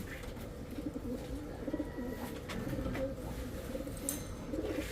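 Pigeons in a breeding loft in the Philippines coo in soft, repeated low calls that overlap close by against a quiet background.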